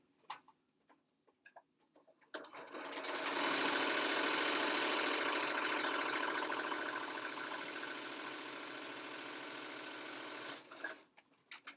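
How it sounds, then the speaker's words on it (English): A sewing machine runs steadily for several seconds, stitching a fabric face mask with a fast, even mechanical whir that starts and stops abruptly, with quiet handling noises before and after. "I'm going to sew along this 8-inch line right here."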